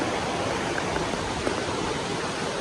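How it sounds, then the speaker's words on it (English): Water rushing over rocks near a waterfall, a dense, even hiss of flowing water that holds steady and fairly loud throughout with no voices. "all we could see were just rocks and flowing water"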